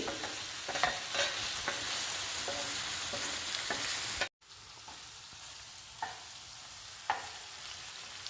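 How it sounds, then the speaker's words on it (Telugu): Organic eggplant pieces sizzling steadily in a pan, with repeated scraping stirs of a utensil and a brief break midway, close and loud with no voices. "వంకాయలు చాలా ఫాస్ట్గా ఫ్రై అవుతాయండి ఇవి ఆర్గానిక్ వంకాయలు కాబట్టి ఇంకా ఫాస్ట్గా ఫ్రై అయ్యాయి"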